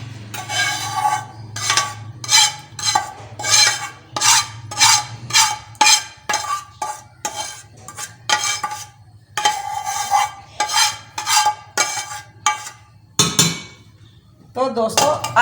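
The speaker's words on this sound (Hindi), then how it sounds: "अब मैं इसको इधर से इस बर्तन में मैं शिफ्ट कर दूंगी इसको।" Cooked aloe vera halwa in ghee is scraped and moved into another pot, producing repeated loud metallic scrapes and clanks of a spoon against cookware in an irregular rhythm, close up, with no talking.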